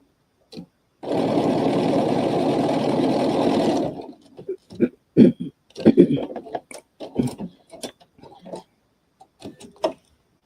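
A sewing machine stitches a spiral template bag in one continuous close burst of about three seconds, then stops; brief handling clicks and talking follow afterward.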